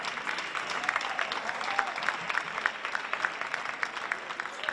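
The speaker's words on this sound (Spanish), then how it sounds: "Un fuerte aplauso para ellos." Strong applause from an audience at a university tuna music contest and awards ceremony, dense even clapping filling the hall for several seconds at moderate distance.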